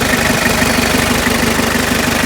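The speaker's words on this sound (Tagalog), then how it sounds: "ayun po yung andar ng makina niya, napakaganda umandar" Engine of a Wrangler-type jeep fitted with a first-generation Pajero engine idles steadily, a loud, close, even rhythmic chugging hum with a faint knock and no talk.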